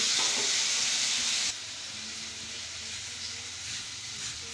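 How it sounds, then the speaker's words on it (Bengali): Potatoes fry in a pan for a soybean and potato curry, a loud close sizzle that drops to a softer steady hiss partway through, with some stirring. "এখানে সয়াবিনের জন্য আলু কষানো হচ্ছে"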